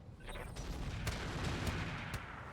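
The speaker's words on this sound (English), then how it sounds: "That heavy rifle turret doing a bit of armor damage" A heavy rifle turret fires in the mech game RogueTech, giving three or four sharp booming shots spaced about half a second to a second apart over a continuous rumbling battle bed, with no voices.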